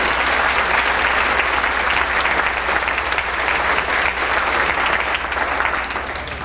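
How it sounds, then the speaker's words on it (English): Loud sustained applause from a room full of people at a boys' basketball banquet, continuous dense clapping for about six seconds that eases slightly at the end. "I think they deserve a big round of applause for putting this together."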